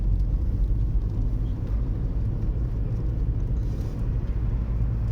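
A car drives along a road toward a school, its engine and tyre rumble steady and close throughout, a continuous low drone with no voices over it.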